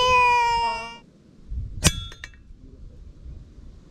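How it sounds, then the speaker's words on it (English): After a fading ringing tone, a single sharp metallic clang rings out as a KRAL NP-03 Puncher air rifle pellet strikes a steel target 25 yards away, followed by a couple of fainter ringing taps and quiet outdoor background. "You hit it, buddy. 25 yards. Metal target."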